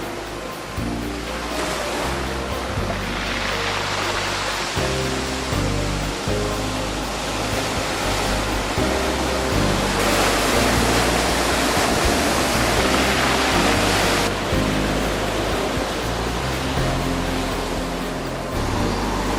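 Ocean waves break with surfers riding them along Las Americas Bay in Tenerife, a continuous loud roar of surf with swells of crashing water and no voices.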